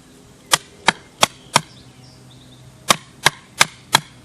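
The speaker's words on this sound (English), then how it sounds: "Here I'm just pounding a broom handle in the bottom of the hole, giving me several holes" A broom handle is pounded into the bottom of a dug hole in clay soil for a French drain, giving dull, woody thuds close by. Two groups of four evenly spaced strikes are separated by a brief pause.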